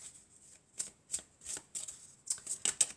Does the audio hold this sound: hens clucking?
no